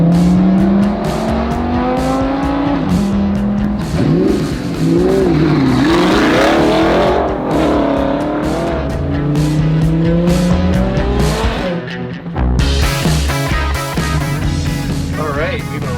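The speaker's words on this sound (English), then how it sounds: "I love the exhaust. No, it's not modified at all. It's a totally stock exhaust." A Lamborghini with a stock, unmodified exhaust revs and accelerates hard, close and loud, with tire squeal in places, and the engine roar goes on through the whole stretch.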